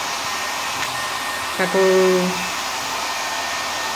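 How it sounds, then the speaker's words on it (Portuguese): Small hotel-style travel hair dryer running on its low setting, giving a steady, soft blowing whir throughout with a brief murmured word near the start. "com o secador bem fraquinho, aquele de hotel de viagem."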